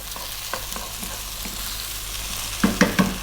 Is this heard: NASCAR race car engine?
no